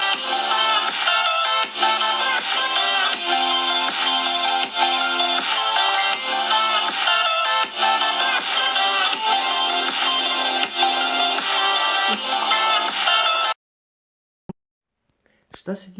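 A ringtone melody plays loud and continuous from the speaker of a Samsung Galaxy S6 Edge Plus for about thirteen seconds, then cuts off abruptly into near silence broken by a couple of faint clicks.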